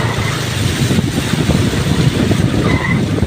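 A motorcycle slides on a deeply flooded road in heavy rain and traffic. Close and loud, it gives a continuous rough churning of engine and water with no pause.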